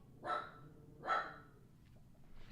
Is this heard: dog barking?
yes